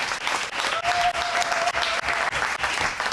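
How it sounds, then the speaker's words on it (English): Audience at a mayoral announcement of an Uptown affordable housing investment breaking into a round of applause, steady and fairly loud crowd clapping filling the whole moment, with a faint tone running briefly underneath. "Can we give them another round of applause?"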